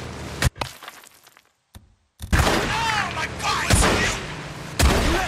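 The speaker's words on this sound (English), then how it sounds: "Three shots from the little stubby shotgun." Three blasts from a short, stubby shotgun in the video game Days Gone, loud sharp bangs spaced apart with game noise and a voice talking between them.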